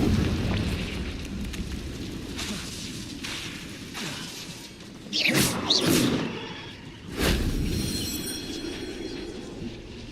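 Confringo blasting spell explosions from the Hogwarts Legacy video game, two bursts of booming, crackling impact about two seconds apart over a steady rumbling background.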